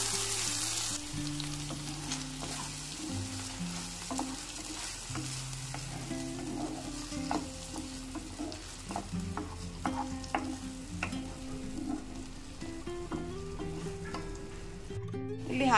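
Ground masala frying in hot oil with fully browned onions for crab sambar, a steady sizzle with repeated stirring scrapes and clinks throughout, close and alone with no talk.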